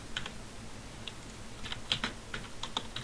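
Quick, light clicks from a computer keyboard rise and fall in soft irregular bursts while code is entered, with a quiet room hum behind.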